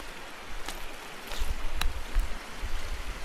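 Lee Creek at Devil's Den State Park, Arkansas, flowing as a soft, steady burble of running water nearby, with a few light splashes.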